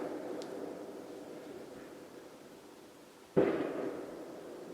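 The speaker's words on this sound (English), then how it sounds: "I trust you can hear the humongously loud fireworks out there." A single loud firework bang goes off outside nearby on New Year's Eve, a sharp burst cutting through steady background hiss and then trailing off into rumble.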